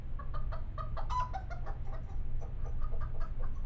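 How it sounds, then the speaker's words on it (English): Chickens clucking in the video game Law & Order: Legacies, set in New York: a run of close, repeated clucks and squawks over a steady low hum, with no talking. "What's that noise? Our chickens."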